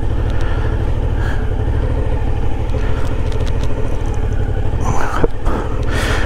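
A motorcycle engine idles and putters at low revs during slow-speed riding drills on uneven asphalt, a steady close rumble with small throttle variations and a brief louder burst near the end.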